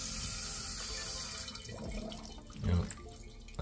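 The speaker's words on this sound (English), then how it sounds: "Now that I thought they fixed the toilet here, it's just continually running." A house toilet runs continuously, apparently from a sticking float, producing a steady hiss of flowing water with gurgling and dripping, heard close up. A brief louder splash or rush comes near the end.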